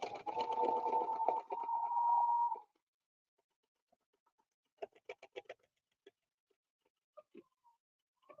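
A sewing machine runs a double line of stitching in one continuous buzzing burst for about two and a half seconds, then stops, leaving quiet broken by a few faint ticks and small handling clicks.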